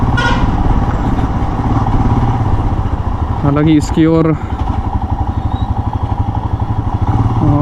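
A motorcycle engine runs steadily and close on a test ride, with a clattering burst near the middle, while someone talks over it in Hindi.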